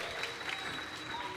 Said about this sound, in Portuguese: Aplauda ao Senhor por essa recepção